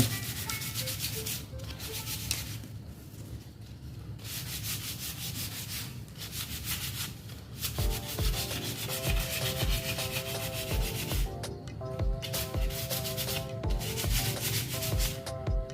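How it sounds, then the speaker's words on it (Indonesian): The bamboo centre spine of an old kite is rubbed and cleaned by hand, giving a close, continuous scratchy friction that becomes a steady back-and-forth stroking rhythm, with no one talking. "Kita gosok tulang tengah teman-teman ya. Kita bersihkan."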